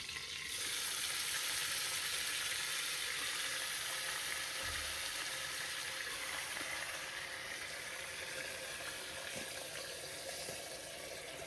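Marinated beef for a korma hits a hot pan with a loud, continuous sizzle and crackle that holds steady throughout, no voices over it.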